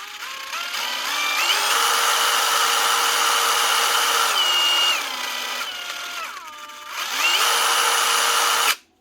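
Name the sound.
Dewalt power drill running through its speeds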